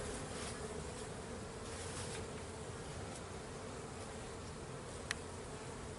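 Honey bees swarm a hive frame in a dense, steady buzz that fills the whole stretch at an even level, with one brief sharp tick near the end.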